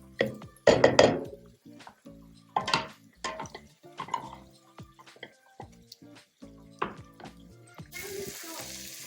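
Onions and carrots softening in a pan for turkey bolognese, a quiet background sizzle broken by clear clinks and scrapes of a utensil against the pan, with bursts of stirring.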